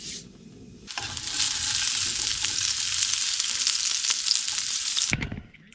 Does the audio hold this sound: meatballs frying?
yes